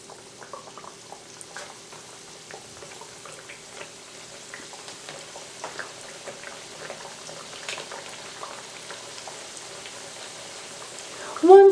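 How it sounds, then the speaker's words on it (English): Bread dough frying in oil heated to 365 degrees Fahrenheit in a skillet gives a steady, soft sizzle and crackle with scattered pops, ending in a brief louder burst. "Once the dough comes into contact with the heated oil, the dough starts to create air bubbles."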